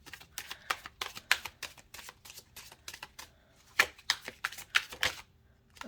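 Tarot cards riffle and slap in quick bursts of shuffling, with separate card snaps and draws between them, close and crisp against a quiet room.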